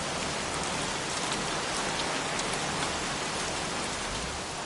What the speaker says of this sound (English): Goddamn rain. Soaking wet.